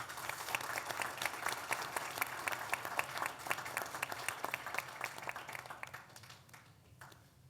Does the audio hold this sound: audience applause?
yes